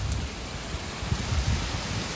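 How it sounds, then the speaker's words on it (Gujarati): Unseasonal rain falling during a storm, a steady close hiss of drops with low rumbling bursts throughout, no voices. "હું ઉડે તો જાન્યા વરસાદ નથી ચોમાહાનો માવઠું હે"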